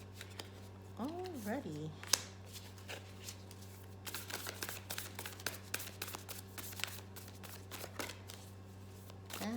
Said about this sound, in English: And last shuffle, last shuffle